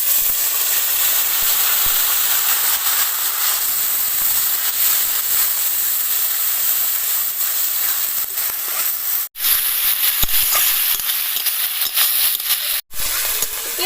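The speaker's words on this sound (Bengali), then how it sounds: "এর মধ্যে এবার দিয়ে দেব পেঁয়াজ বাটা।" Onion paste sizzles in hot oil with whole garam masala, dried red chillies and bay leaves, making a steady loud hiss of frying for the whole stretch with two brief drops.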